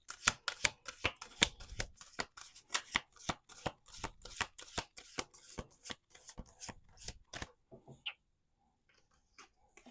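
A deck of playing cards is shuffled up close, with a rapid series of crisp snapping riffles and flicks for about eight seconds, then near silence with a few faint taps.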